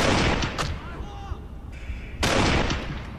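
Loud gunshots in the video game Kane & Lynch 2: Dog Days, two heavy bursts of gunfire with a quieter stretch between them.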